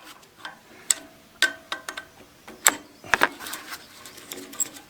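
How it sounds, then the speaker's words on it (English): Metal tool clicks and ticks from a 10mm wrench working a fitting loose on a Bronson gas fire pit, a series of short, sharp, irregular taps and clanks close by, with no talk. "10mm wrench here."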